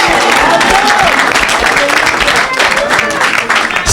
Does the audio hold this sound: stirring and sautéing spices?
no